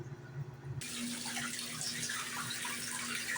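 A portable washing machine on its spin cycle drains water in a steady, close rushing gush that starts abruptly and continues evenly under a low motor hum, with no talking.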